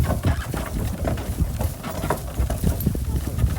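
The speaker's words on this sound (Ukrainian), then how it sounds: "Значить собі йде кобила по дорозі." A draft mare's hooves clop along a hard road in an uneven walking rhythm, under gusty wind noise and low rumble.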